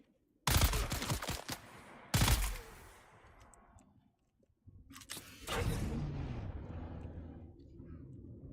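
Gunfire from an enemy gunner in Dune Awakening, sharp loud blasts with long decaying echoes, three separate bursts spaced a few seconds apart, with a voice speaking in between.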